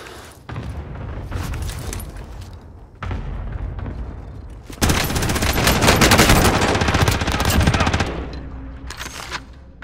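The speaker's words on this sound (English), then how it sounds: "Cluster strike away." Explosions from a cluster strike mixed with bursts of gunfire in a military video game, loud and dense, swelling into a heavy barrage midway before easing off near the end.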